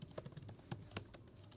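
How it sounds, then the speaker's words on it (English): Rapid keystrokes on a computer keyboard as a question is typed into ChatGPT, a steady run of close, crisp clicks with a few louder taps, no voices. "typing in this question"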